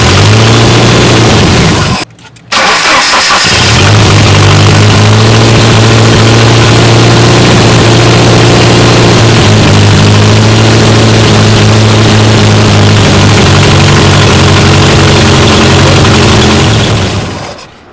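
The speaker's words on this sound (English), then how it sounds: "you crank the engine and you verify the spark over there" A marine gasoline engine on a test setup is cranked, then runs at a loud, steady, droning idle with a brief dropout early on, very near and continuous throughout, without speech.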